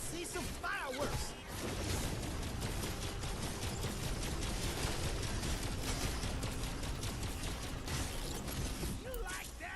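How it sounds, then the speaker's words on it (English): Fireworks go off in the video game Wayfinder, a dense, loud barrage of crackling blasts and mechanical clatter layered with game effects, continuous throughout with a voice speaking over it. "Let's see some fireworks."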